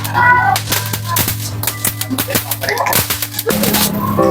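Rapid bursts of sharp cracks and pops, firecrackers going off in quick irregular bunches, loud and close.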